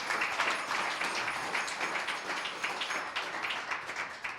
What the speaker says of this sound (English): Another round of applause to all of our speakers.